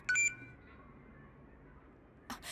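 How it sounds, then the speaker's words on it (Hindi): A mobile phone gives a short, bright electronic beep at the start, notifying that an OTP message has arrived. Quiet follows, then a brief burst of noise at the end. "देखो तुम्हारे मोबाइल पे OTP आया होगा।"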